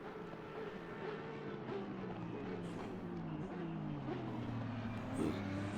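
GT3 race car engines in Assetto Corsa Competizione at COTA drone steadily, then the pitch falls as the cars brake, a moderate continuous engine note with no talk over it.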